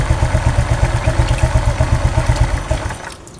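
A Honda Vario 125 scooter with a squeaking noise runs close up, its engine pulsing in a steady, even throb before the sound cuts off near the end.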